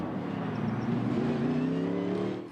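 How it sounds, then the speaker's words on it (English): GT race cars rumble round the Silverstone circuit, a loud sustained engine drone with rising revs as the pack passes close, then fading slightly at the end. "the cars are now heading round, ready for the first race of the day here at Silverstone"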